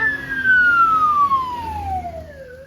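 A fire engine siren wails loud and steady, sweeping slowly downward in pitch over a low traffic rumble, on Lamma Island, Hong Kong.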